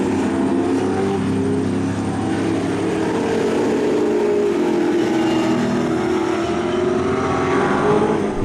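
Supercheap Bathurst 1000 race cars, including the I-Select Commodore and Hawkins Transport car, roar off at the start of the 2012 first lap, a dense continuous engine drone with shifting pitch, loud and steady throughout.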